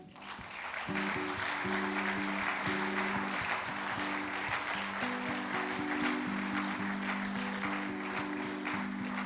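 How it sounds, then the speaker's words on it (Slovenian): A large audience at a table tennis club's 70th anniversary ceremony claps in sustained, steady applause from the start, with background music playing underneath. "mi pa se jim bomo poklonili z enim velikim aplavzom"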